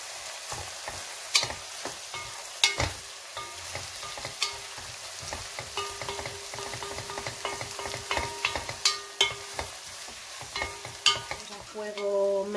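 Red pepper strips fry in a pan for a brothy chicken rice, a crackling sizzle laced with sharp spatters and irregular clacks of a utensil against the pan. No one talks.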